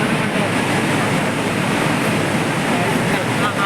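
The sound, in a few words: Bharachukki waterfall near Mysore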